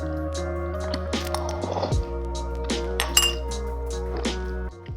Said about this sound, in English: I can put just a little bit in, and then you give it a good stir